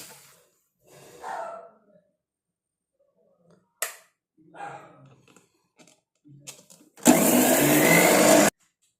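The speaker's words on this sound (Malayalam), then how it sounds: "ഇത് നമുക്ക് മിക്സിയുടെ ഇത് വെച്ചിട്ട് ഒരു സ്വല്പം വെള്ളം കൂടെ ചേർത്തായിരിക്കണം" Mixer grinder blending natural hair dye ingredients with a little water: a single loud, steady whirring burst of about one and a half seconds near the end, after quieter stretches of voice and rustling.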